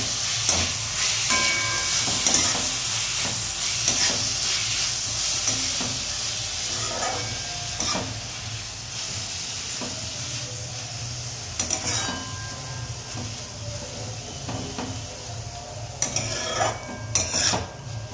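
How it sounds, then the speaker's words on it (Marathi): Tomatoes and onion fry together for a homemade matki bhaji, giving a steady hissing sizzle with intermittent scraping stirs and a few sharper clinks toward the end, close and unbroken by speech. "टमाटे पण चांगल्या प्रकारे फ्राय करून घ्यायचे तुम्हाला"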